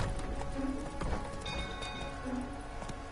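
The horse Roach gallops in The Witcher 3, with rapid rhythmic hoofbeats over a busy game soundscape of ambient tones and faint chimes.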